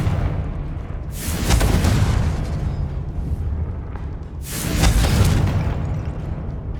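Two heavy booming blasts from the Confringo fire spell in the video game Hogwarts Legacy, each a loud rumbling explosion that swells and slowly fades, a few seconds apart.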